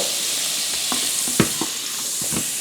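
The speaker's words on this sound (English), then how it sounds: "melt the butter properly" Butter melts and fries in a pan for French onion soup, giving a steady, close sizzling hiss with a few soft pops and crackles and no talking.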